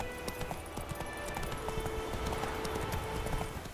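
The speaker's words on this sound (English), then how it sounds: "we get our horse named Roach" Horse hooves clip-clopping in The Witcher 3: Wild Hunt, a steady rapid patter of galloping steps heard alongside game ambience and faint musical tones, with no talk.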